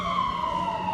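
A city emergency vehicle siren holds a steady, loud wailing tone that slowly sinks in pitch, sounding continuous for the full second.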